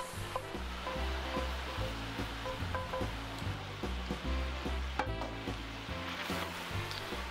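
Chopped onion, garlic, tomato paste and flour hit browned meat in a pan over high heat, giving a steady, fairly loud sizzle and crackle that runs throughout, with faint tonal music in the background.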